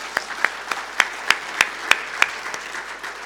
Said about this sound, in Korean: 우리 그 하나님 앞에 함께 감사의 박수 좀 올렸으면 좋겠습니다